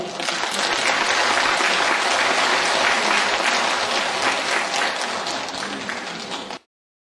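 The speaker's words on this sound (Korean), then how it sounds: "뜨거운 박수를 부탁드립니다." Warm, sustained applause from a seated audience at a health lecture in Korea, dense and loud for over six seconds before cutting off abruptly.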